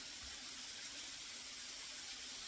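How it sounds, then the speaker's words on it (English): A small off-trail waterfall near Pine Island Double Falls in Daniel Boone National Forest flows in a constant soft, broadband rush, steady and fairly faint, with no voices. "this little off-trail waterfall is a pretty good indicator of what flow at Pine Island should"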